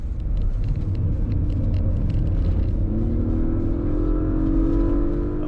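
Tuned Audi RS6 engine at speed on the Interlagos circuit, a loud continuous rumble and roar with a rising exhaust note building in the second half as a second car runs alongside.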